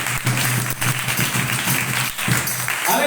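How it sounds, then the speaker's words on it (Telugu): A church congregation at a Christmas sermon claps together in a sustained, dense burst of applause that fills the room for a few seconds, close and loud, with a brief dip partway through. "చప్పట్లు కొట్టండి"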